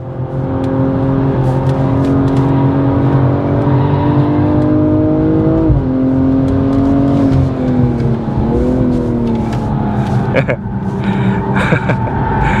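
A BMW M240i with a single-turbo six-cylinder engine and all-wheel drive is driven hard on a track, its loud onboard engine note droning and rising through the revs, dipping at gear changes, with a few faint words over it.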